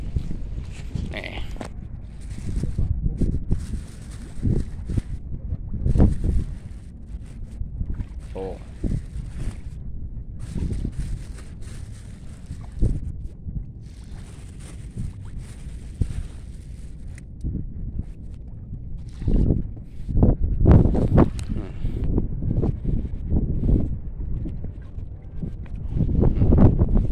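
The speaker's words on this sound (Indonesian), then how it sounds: "ada angin kencang juga tuh" Strong, gusty wind at an outdoor fish pond buffets the microphone in repeated low rumbling bursts, heaviest near the end, with voices faintly underneath.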